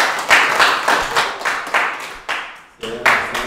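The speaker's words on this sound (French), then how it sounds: "On applaudissait pour l'arrivée de monsieur Armand." Baka villagers in eastern Cameroon clapping rhythmically in unison, a close, steady pulse of hand claps with a brief pause before the beat resumes.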